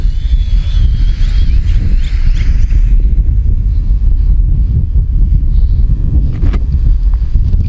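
Wind blows steadily and loudly across the microphone during an outdoor flight of a Xiaomi Fimi A3 drone, a continuous rumbling buffet with no break.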